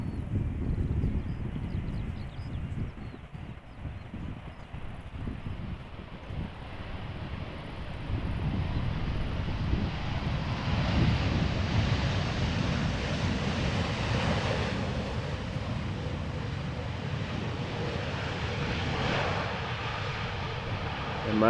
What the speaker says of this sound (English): Embraer 195 arriving from Warsaw